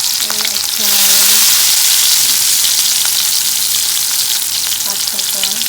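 Onions, scallion and thyme frying in a hot pan for Jamaican ackee and saltfish, a loud continuous close sizzle with crackling, alone without talk.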